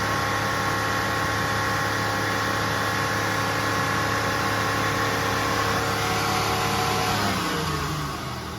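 A car engine runs steadily in a fuel system lab, holding a loud, even drone with a constant high whine, then the revs shift and drop off near the end.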